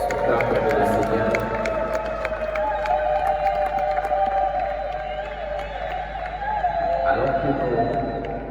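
A wedding congregation in church cheers, whoops and applauds together, a loud, steady crowd roar lasting throughout, with a voice speaking over the noise.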